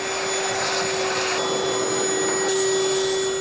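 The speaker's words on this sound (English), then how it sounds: "I'm gonna get a vacuum because I made a mess." Vacuum cleaner sucking up drywall dust and debris during wall touch-up repairs, a loud, steady whine with a strong tonal hum that runs continuously and shifts pitch slightly partway through as the nozzle moves.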